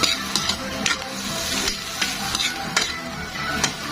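Insects stir-fried in a pan with a little salt, a steady close sizzle broken by repeated sharp scrapes and clacks of a utensil against the metal pan, with no talking.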